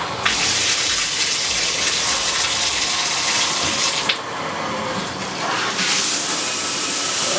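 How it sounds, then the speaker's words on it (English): Water sprays hard from a newly fitted shower head and a small pressure-washer shower cleaner hose, a loud continuous gushing hiss with brief dips in force, close by and without talk. "We're gonna test this because this is the little pressure washer shower cleaner hose."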